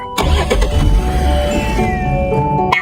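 A car engine turns over and catches, then runs with a rough rumbling idle up close for a few seconds beside a light children's song backing.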